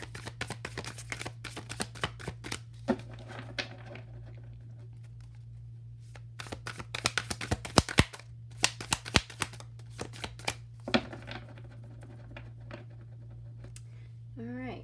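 A tarot card deck being shuffled by hand, rapid clusters of crisp riffling flicks and slaps in bursts with short pauses, close up over a steady low hum, with a brief voice near the end.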